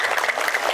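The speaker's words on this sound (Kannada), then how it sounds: "ಜೋರಾದ ಚಪ್ಪಾಳೆಯೊಂದಿಗೆ ಅವರನ್ನ ವೆಲ್ಕಮ್ ಮಾಡಬೇಕು ಪ್ಲೀಸ್." A school annual day audience claps loudly to welcome a guest: a short, dense, close burst of applause from many hands.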